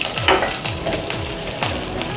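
A green chili and a sprig of curry leaves sizzle in hot oil in a pan while being stirred, giving a steady close crackle with soft scraping strokes at a regular pace.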